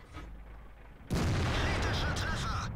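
Heavy tank cannon blasts in World of Tanks: a sharp, loud report bursts in after a quiet second and rings on with rumbling decay.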